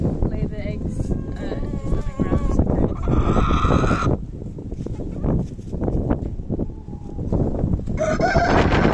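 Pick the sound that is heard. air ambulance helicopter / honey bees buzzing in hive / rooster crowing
rooster crowing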